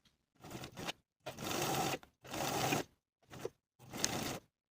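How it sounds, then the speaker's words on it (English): A sewing machine stitches a coat pocket lining for a lined woman's coat with welt pockets, running in five separate bursts, some long and some short, with silence between them. "Sew the pocket lining in place from dot to dot just as we did for the opposite piece."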